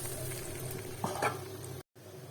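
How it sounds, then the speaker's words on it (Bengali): Dal tempered with onion, garlic and a dried chilli, a low steady sizzle with a couple of brief stirring scrapes near the middle before a short cut to silence. "এখন আমি ডালটা বাগার দিয়ে নিচ্ছি"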